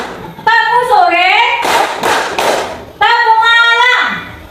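A class plays a rhythm clapping game: a short run of crisp, close hand claps lands between stretches of children's chanting voices.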